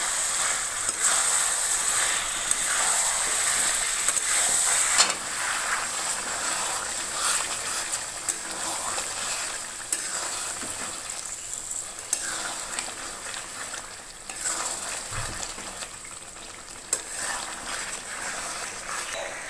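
Potatoes fry with spices in a pan for chicken biryani, giving a steady close sizzle that eases slightly after the first few seconds, with a few faint clicks and no voices.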